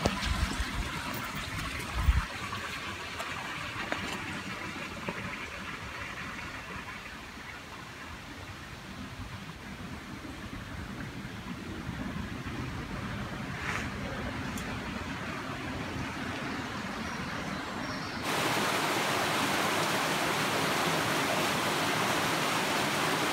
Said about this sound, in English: You can hear the rushing water and some trickling water